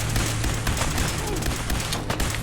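A landmine goes off in a video game, a dense, loud burst of blast and crackling gunfire-like impacts filling the whole brief moment, with no talk over it.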